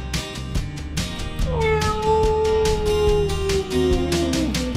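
A cat in the village of Myloi on Samos gives one long, loud, close meow that slowly falls in pitch, over a softer background.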